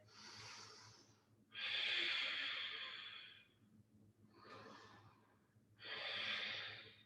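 Slow, deep yoga breaths during a vinyasa flow, two long airy inhale-exhale cycles close to the listener with soft pauses between them, no talking.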